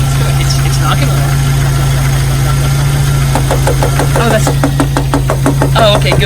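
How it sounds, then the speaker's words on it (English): A Jeep engine with a blown-up motor idles low and steady, its rough rumble joined in the latter half by a rhythmic knocking and ticking that repeats at a regular pace, with people talking over it. "We're just gonna ignore that knocking, ticking, blown up motor sound."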